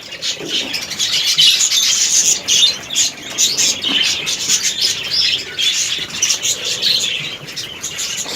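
A tame breeder bird pair, a spangle tufted female and a male, chirps and tweets busily and close up while eating seed from a hand, with soft flutters in between.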